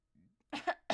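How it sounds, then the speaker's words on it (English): A man lets out a deep, rough smoker's cough in two or three quick hacking bursts after a faint throat sound, close and loud with no talking over it. "Well, I just had a smoker cough."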